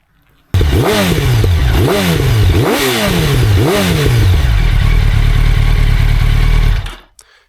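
A motorcycle engine starts abruptly, revs in four or five loud rising blips, then holds a steady, heavy drone close by before cutting out.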